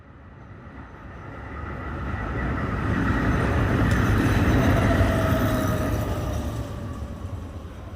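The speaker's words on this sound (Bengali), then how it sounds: "ভোরে হাওড়ায় ট্রেন এসে দাঁড়াতেই দেখি মিস্টার সোম প্ল্যাটফর্মেই দাঁড়িয়ে আছে" A train rumbles in, its low roar swelling and then easing off with a faint squeal of brakes, continuous and fairly close.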